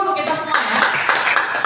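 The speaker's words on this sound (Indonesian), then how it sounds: "Tepuk tangan lah dulu untuk kita semua ya" Audience clapping at a monitoring-mechanism briefing, a quick scattered round of hands under and around a speaking voice, short and moderately loud.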